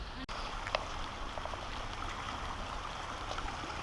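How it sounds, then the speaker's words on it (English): The clear Cameron River flowing beside the trail through Cathedral Grove's old-growth forest, a steady soft rush of water with a few faint trickles and one brief click near the start, no voices. "Got Cameron River running alongside, I guess running through Cathedral Grove"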